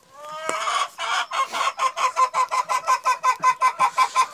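Silkie and Pekin bantam chickens, a rooster among them, cluck close by. A sharp squawk is followed by a long, evenly spaced run of repeated clucks that grows more rhythmic toward the end.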